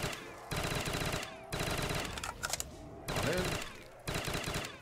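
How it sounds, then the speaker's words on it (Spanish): Rapid automatic gunfire from a video game weapon fired from the hip, loud bursts repeating in several long strings separated by short pauses, with brief single shots between them. "Ya toca disparar desde la cadera."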